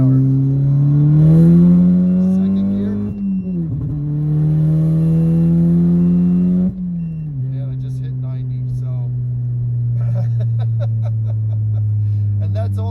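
A VW MK7 GTI with a Stage 2 clutch and tune pulling hard in second gear, the engine droning and rising steadily in pitch, dipping at a shift, then continuing under load, loud from inside the cabin.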